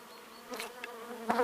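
Honeybees from a weak colony in early spring, wintered on four frames, buzz in a steady, close hum with a few louder passes as individual bees move near.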